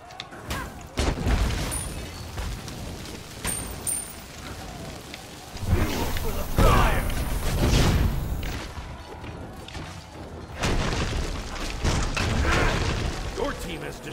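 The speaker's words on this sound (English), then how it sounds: "Your team has destroyed a middle enemy tower." An enemy tower crumbles in the Smite video game during a 1v1 Agni match, with repeated heavy booming crashes and rumbling impacts over about fourteen seconds, and a person talking throughout.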